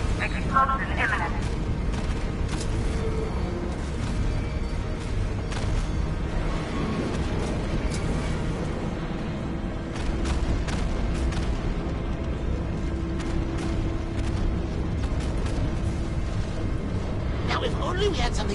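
Ace Chemicals plant exploding in Arkham Knight, a sustained rumbling roar with sharp cracks and booms scattered throughout, loud and continuous, with voices talking over it.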